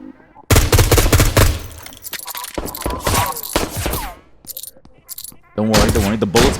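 Gunfire in the video game HOLE: loud, close bursts of rapid shots in several clusters, separated by short pauses with softer clatter and thuds, ending in another heavy volley.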